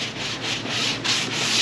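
Sanding block scraped back and forth over primer on car body paint, a steady close rasping in repeated strokes that swell slightly louder toward the end.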